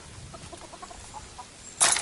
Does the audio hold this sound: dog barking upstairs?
no